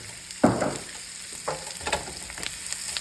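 Chopped yellow onion and celery sautéing in butter, a close steady sizzle with a few sharp stirring scrapes and clinks.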